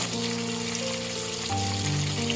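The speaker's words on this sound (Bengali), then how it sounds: "তেলটা একটু গ্যাসটা কমিয়ে ভাজবেন, নইলে তেলটা খুব ফোটে তো।" Fish oil frying and spluttering in a pan on a gas stove, a dense continuous sizzle with crackling pops, close and steady throughout.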